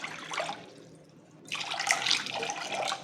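One and a half cups of water pour in a steady stream, pause briefly, then resume more strongly, splashing nearby into a container for a palm-sugar kuih talam.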